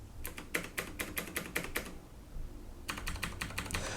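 Quiet, clicky keystrokes on Cherry MX Green switches of a CM Storm QuickFire XT keyboard in quick irregular bursts, a pause in the middle, then another rapid run of typing.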